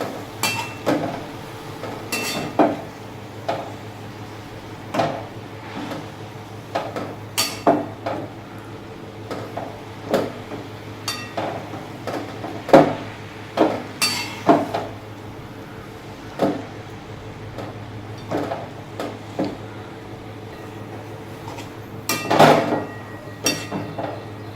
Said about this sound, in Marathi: मेथीची भाजी व्यवस्थित मिक्स करायची आहे।